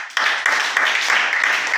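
A church congregation bursts into applause to acclaim the Lord, a dense, steady wash of many hands clapping close by, with small surges at the start and throughout the short burst.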